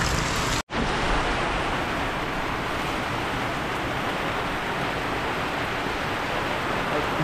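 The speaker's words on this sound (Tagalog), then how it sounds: "Lakas po yung ulan." Heavy rain pours down outdoors in Mindanao, a dense, steady hiss that continues without letup except for one brief dropout near the start.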